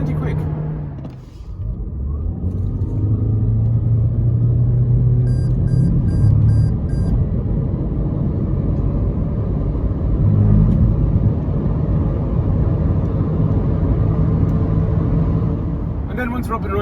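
A 2018 Toyota C-HR Hybrid driving steadily at 100 km/h, with constant road and engine rumble and a few faint beeps, and someone talking over it.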